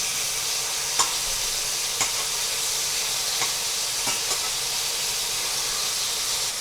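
Koobideh kebab sizzles hard in a frying pan as it is flipped, a loud steady hiss with a few sharp clicks of the spatula against the pan spaced about a second apart.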